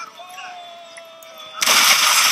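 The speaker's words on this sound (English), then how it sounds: "Look at these guys shooting out here." Soldiers fire a massed volley in Empire: Total War, Indian campaign: after a quiet stretch of faint tones, a sudden loud, dense burst of gunfire erupts and holds steady to the end.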